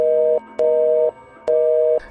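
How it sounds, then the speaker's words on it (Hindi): Telephone disconnect tone after a call is hung up: a steady electronic beep repeating three times in even pulses with short gaps, clear and loud. "इतना कहकर उसने फोन काट दिया।"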